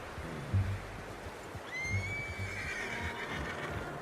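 A horse in Red Dead Redemption 2 whinnies once, a high descending neigh over a steady outdoor rumble, with low thuds and movement underneath.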